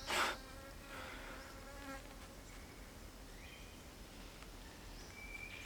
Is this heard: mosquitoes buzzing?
yes